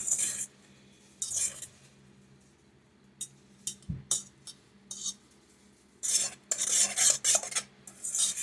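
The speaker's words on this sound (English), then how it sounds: "all you gotta do is stir it" Beef tips and rice stirred in a pan, with bursts of scraping spoon-on-metal clinks separated by pauses, close and moderately loud.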